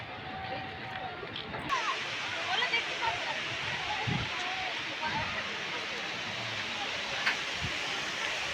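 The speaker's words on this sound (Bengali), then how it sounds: "দেখো এখানে জল ছাড়ে" Water pours through a canal at Baranti Dam, a steady, broad rushing roar that carries on without a break, with faint voices from a picnic crowd mixed in.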